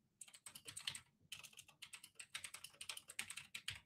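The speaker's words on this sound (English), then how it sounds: "I say thank you if you like my clacky keyboard right now" Fast, continuous typing on a clacky computer keyboard, dense rattling keystrokes close up with one brief pause, quiet overall and no voices.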